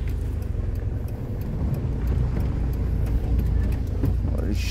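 Cars creeping one after another along a narrow street in Vinnytsia during a traffic jam, a steady close engine rumble and road noise running throughout with no talk.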